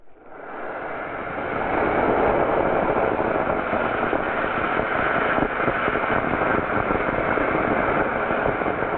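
Homemade rocket motor made from fireworks burning in a steady, loud roaring hiss that ignites abruptly and holds constant for several seconds, close to the listener with no talking.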